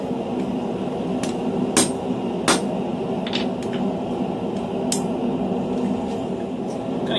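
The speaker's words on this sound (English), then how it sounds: "I'm going to use a hammer that I rarely use, a ball peen hammer." A ball peen hammer strikes a knife blade being forged, ringing out as a handful of sharp, bright metallic blows spaced irregularly over a steady low workshop hum.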